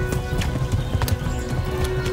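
Horse hooves clip-clopping at a gallop in the medieval game Kingdom Come: Deliverance, a steady rhythmic pounding close by over a dense game soundscape.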